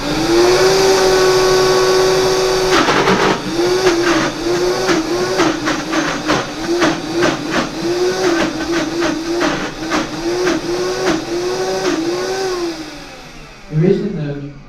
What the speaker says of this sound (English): The reason the Vitamix is so good is if you did what I just did in a normal blender, it would stop.